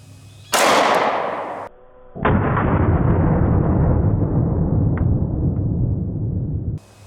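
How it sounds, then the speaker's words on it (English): Two loud 9mm pistol shots with Hornady Critical Defense rounds, fired point blank into Stretch Armstrong toys, each with a sharp crack; the second shot is followed by a long, rumbling echo that fades out. "let's shoot these Stretch Armstrongs with a 9mm"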